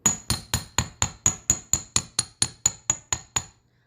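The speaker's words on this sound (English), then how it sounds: "before we bend them, I'm going to hammer them to work harden them" Steady metallic hammer taps on jewelry ear wires, about fourteen evenly spaced ringing strikes, close and clear with no talking, stopping abruptly.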